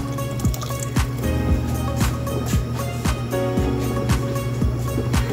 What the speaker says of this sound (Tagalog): So, mag-add pa tayo ng water.